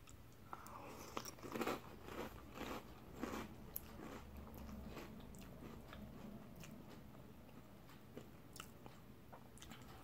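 Froot Loops Wonka cereal eaten with milk, crunched in soft, close bites that repeat over a faint steady hum without talk.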